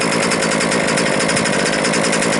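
A Losi 5ive B gas-powered RC car engine runs flat out during a break-in heat cycle, a loud, close, continuous buzzing drone with a rapid rattling pulse and no pauses.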